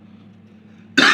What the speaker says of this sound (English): So coughing.